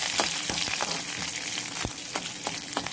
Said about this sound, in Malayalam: മുന്തിരി അതുപോലെ അണ്ടിപ്പരിപ്പ് നമുക്കൊന്ന് നെയ്യിൽ വാർത്തെടുക്കാം.